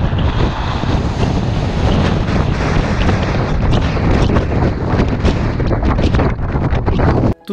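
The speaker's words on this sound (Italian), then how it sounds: "un'idea del vento che c'era su Pico Ruivo ve la voglio dare" Strong wind roars across the Pico Ruivo summit on Madeira, a loud, constant buffeting rush battering the microphone without pause until it cuts off at the very end.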